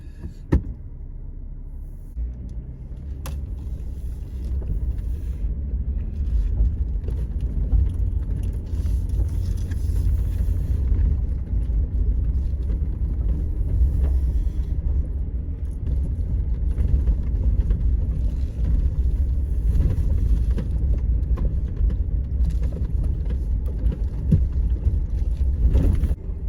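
A Jeep in four-wheel drive crawls along a narrow wooded trail on the Bear Valley Loop, its engine a low, steady rumble with faint rattles and occasional knocks over nearly half a minute, with no talking.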